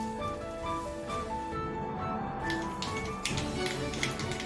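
Mustard seeds pop in hot coconut oil in a clay pot, a rapid scatter of light ticks and crackles over a low sizzle, nearby and moderately loud.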